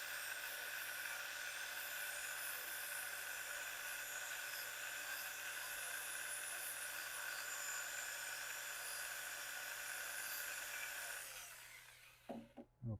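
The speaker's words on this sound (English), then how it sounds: "I've got the grinder at an angle, so I'm going with the grain. I'm going to keep the sander moving so I don't create a big old flat spot." An angle grinder sanding turned wood with the grain, a steady, faint, high whirring drone that runs unbroken for about eleven seconds, then winds down and ends in a few soft knocks.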